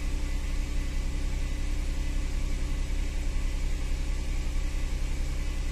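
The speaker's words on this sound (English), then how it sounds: "pump's still running." An Audi Q5's secondary air pump running during a diagnostic functional test, a steady, even droning whir that holds constant and close with no speech.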